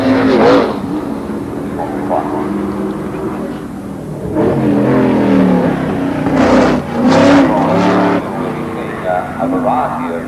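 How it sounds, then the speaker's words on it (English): Dennis Hulme drives a McLaren race car with a big Chevrolet engine at considerable speed at the 1981 Dubai Grand Prix. Loud engine notes rise and fall in pitch, partly under a talking voice. "Dennis Hulme at considerable speed with the big Chevrolet engine McLaren."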